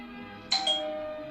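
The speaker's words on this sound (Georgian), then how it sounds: "გარზე ზარი არ ჩერდებოდა." A doorbell rings in the middle of the night, a single clear two-tone chime that sounds suddenly over a quiet background and then fades.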